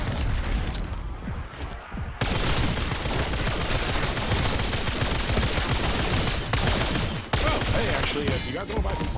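A huge gun in a video game fires continuously in dense, rapid bursts. The shots shred along at a loud, unbroken level, with brief sharp shifts where the firing changes, and no voice over it.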